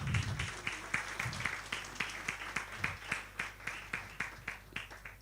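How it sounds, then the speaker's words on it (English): Audience applause at a graduation ceremony, fairly faint and heard from a distance, settling into rhythmic, evenly spaced claps in unison, with brief murmurs of voices early on. "Could we give her a big round of applause?"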